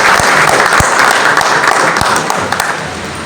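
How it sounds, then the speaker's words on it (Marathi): An audience at a district-level journalism award ceremony applauds loudly and continuously, dense clapping filling the room throughout. "आपण सगळेजण एकदा टाळ्या वाजवून"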